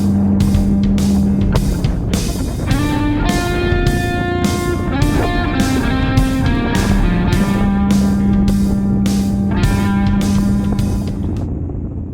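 A Triumph Bonneville motorcycle ridden along narrow roads: a loud, steady engine drone that rises and falls as it revs through the gears, with wind rush and brief breaks at each shift.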